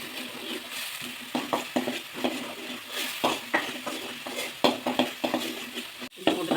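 Ginger garlic paste sautéing in a pan, a low continuous sizzle broken by frequent scraping and clinking strokes of a spatula, growing slightly busier toward the end.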